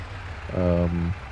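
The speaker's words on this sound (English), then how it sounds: "Is the sirens going off again?" A siren sounds on a farm map in Farming Simulator 22, a short, steady, horn-like tone lasting about half a second that rises over a low background engine hum and then stops.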